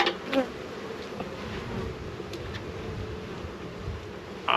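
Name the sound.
honey bees buzzing at a hive during inspection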